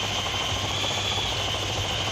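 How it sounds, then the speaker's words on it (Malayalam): A helicopter rotor whirs in the video game Dude Theft Wars, a steady loud droning hum with a constant high whine, no speech. "ഹെലികോപ്റ്റർ നമ്മൾ കയറുമ്പോൾ തന്നെ കറങ്ങിക്കോളും"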